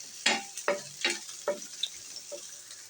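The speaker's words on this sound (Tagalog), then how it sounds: "Gisa-gisa lang natin hanggang maluto ang ating sibuyas mga kakabs." Pork and onions sautéed in a pan for a stir-fry with ampalaya: five or six evenly spaced stirring scrapes over a soft, steady sizzle, close by and moderately loud, no talking.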